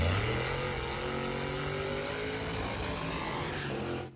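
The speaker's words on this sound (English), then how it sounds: "That was the sound of racing just 1 year ago in Mingo County." Drag racing cars roaring down the Twin Branch Drag Strip in Mingo County, West Virginia, a continuous loud, dense engine roar with rising pitch as the cars accelerate, fading at the very end, with no talk.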